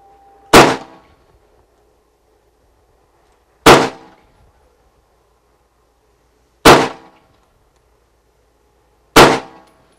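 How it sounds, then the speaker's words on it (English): Four .308 M80 ball rounds fired from an M14 strike a level 3 hard armor plate, each a sharp, loud metallic crack with a short ringing decay, spaced about three seconds apart with quiet between. "we're gonna hit it with M80 ball, 308 out of an M14"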